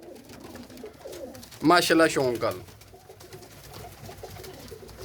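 Pigeons kept by a breeder in Faisalabad coo softly throughout, while someone speaks loudly over them for about a second before the birds continue alone.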